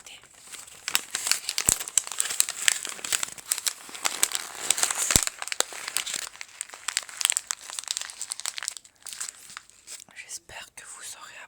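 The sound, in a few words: crumpling a cut sheet of paper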